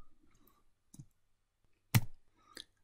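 A few crisp computer mouse clicks heard close in a quiet room, one soft and one louder, followed by a faint double tap.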